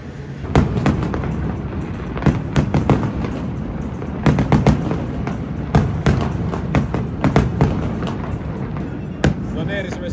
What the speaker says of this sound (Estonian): Planeerisime siin Kennetiga Tristanile väikse ilutulestiku show